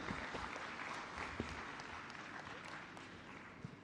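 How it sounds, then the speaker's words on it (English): An audience at a large AI and data science conference in Bengaluru claps continuously in a dense, even wash of applause that holds steady for a few seconds. "Can you please have a huge, huge round of applause for Ms. Shah?"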